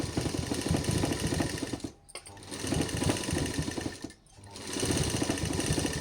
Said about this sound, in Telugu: నేనైతే రౌండ్గా కుడుతున్నాను